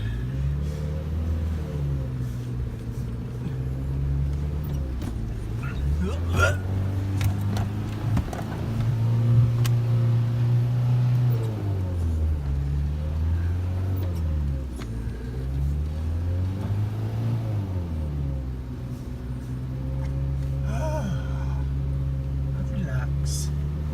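Vehicle driving a rough track through tsetse-infested bush at Kasanka, its engine droning steadily and rising and falling in pitch with bumps, with people talking over it throughout.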